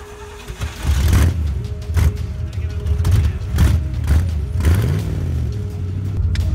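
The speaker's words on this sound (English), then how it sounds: "Put on brake, clutch in, make sure it's out of gear, and we'll see if it fires up." A 1979 Pontiac Trans Am with a carburetor is cranked and fires up, giving a steady, loud, low mechanical rumble with uneven surges throughout.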